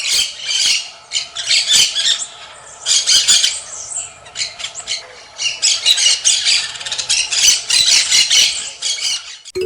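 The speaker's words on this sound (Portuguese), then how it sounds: "Esse é o som do periquito." Parakeets give loud, shrill squawking calls in rapid repeated bursts, close and prominent, with brief pauses between the clusters of cries.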